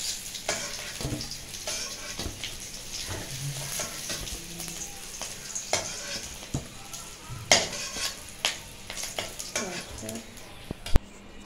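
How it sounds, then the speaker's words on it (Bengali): Boiled potatoes frying in oil in a kadai, with a steady close sizzle broken by scraping stirs and occasional sharp clinks of a utensil against the pan, no voice in the clip. "আর এখানে দেখো আলুটা আমি ভাজিয়ে দিয়েছি, সেদ্ধ আলু"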